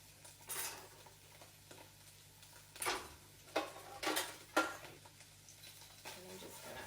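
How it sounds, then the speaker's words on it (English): Green curry paste with garlic and red chili paste moved around a skillet, quiet scraping and stirring strokes with soft sizzling in irregular bursts, close and fairly faint, no speech. "I'm just gonna move this around in my skillet"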